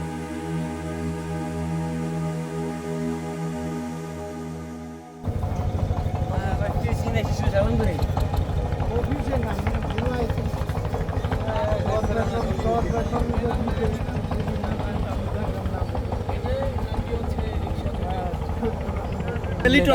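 A trawler's engine as the boat lands at the Char Kukri Mukri launch ghat, a loud, steady low drone that switches abruptly to a rougher, busier rumble with clatter partway through, with people talking over it.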